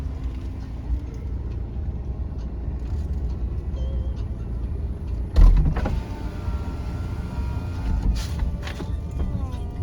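The electric retractable roof of a Mercedes-Benz SLK250 CDI BlueEFFICIENCY AMG Sport with 7G-Tronic Plus runs with a continuous motor whir and mechanical clunks, including a sharp thump midway, recorded up close.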